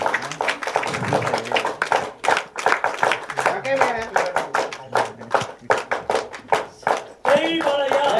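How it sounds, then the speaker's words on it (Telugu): A crowd at a movie trailer launch event claps along in a steady, rhythmic beat, with an announcer's voice talking over the clapping throughout. "1 2 1 2 3 క్లాప్ చేయండి ఒకసారి"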